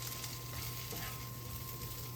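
Chorizo sizzling in a hot pan, a steady close hiss of frying that runs evenly throughout.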